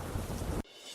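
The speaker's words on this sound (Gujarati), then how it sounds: "વલસાડના વાપીમાં ભારે વરસાદ" Heavy monsoon rain roars loudly in Vapi, Valsad, with a deep thunder-like rumble under the downpour, then cuts off abruptly to a faint hiss near the end.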